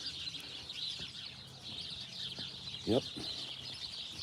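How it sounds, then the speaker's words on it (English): Birds chirping and a chicken clucking outdoors in the morning, faint and somewhat distant, with a brief louder call near the end and a voice briefly speaking. "We have birds. We love birds."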